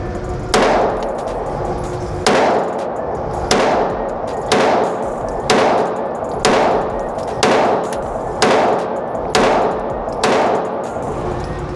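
A TriStar APOC Compact 9mm pistol fires at a shooting range, with about ten loud, sharp shots evenly spaced roughly a second apart, each followed by a short echoing ring.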